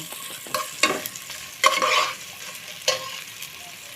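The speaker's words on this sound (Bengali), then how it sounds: "কাঁচা লঙ্কা দিয়ে আমি মশলাটা ভালোভাবে কষিয়ে নেব" A spice paste with chopped green chilli is stir-fried in a pan for a chickpea bhuna, with bursts of spatula scraping and sizzling at irregular intervals over a quiet, low frying hiss.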